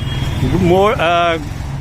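Road traffic rumbles at the Noida stadium intersection, a steady engine drone from cars and trucks beneath someone talking close by.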